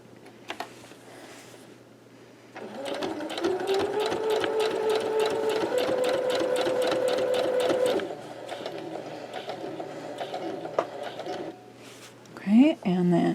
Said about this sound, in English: I'm going to sew along this line until I get back to this point